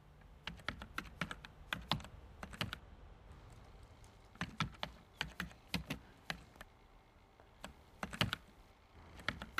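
Someone types guest address details on a computer keyboard, producing quiet clusters of quick key clicks separated by short pauses, with no speech.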